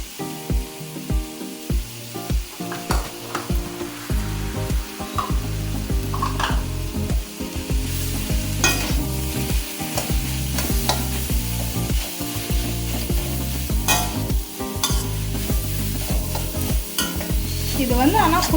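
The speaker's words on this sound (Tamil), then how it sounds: "நம்ம கட் பண்ணி வச்ச கேரட், குடமிளகா, கோஸ் இது எல்லாமே போட்டு வதக்கிக்கலாம்" Carrot, capsicum and cabbage sautéed with onion and tomato in a pan for a paneer roll, a steady loud sizzle with frequent stirring scrapes throughout.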